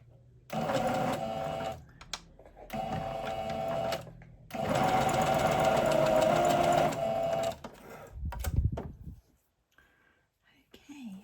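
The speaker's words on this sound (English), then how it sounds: "pop it in the machine and stitch that gap closed" A sewing machine stitches a T-shirt seam closed in three whirring runs of increasing length separated by short pauses, followed by a brief handling rustle and near silence.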